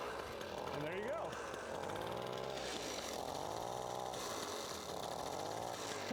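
An Indian MM5A minibike's small engine runs steadily after a kick start, a continuous buzzing putter with slight rises and falls in revs, moderately close.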